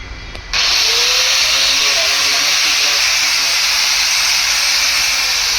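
A wood carving disc mounted on a cutting tool spins up abruptly after a short quiet start, then holds a loud, steady high-pitched whine and hiss with no breaks.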